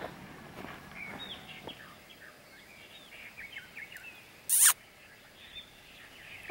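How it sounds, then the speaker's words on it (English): Scattered bird chirps and short calls drift through a quiet outdoor setting on Nuku Hiva in the Marquesas, fairly faint over soft background noise, with one brief loud burst partway through. "All the birds are singing and it is just incredibly beautiful."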